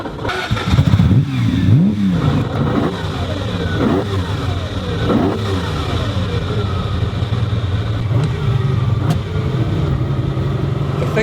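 A Le Mans-winning Ferrari 275 GTB Competizione with its original engine revs loudly and continuously, a deep bellowing roar rising and falling in pitch through repeated throttle blips, close and alone with no talk.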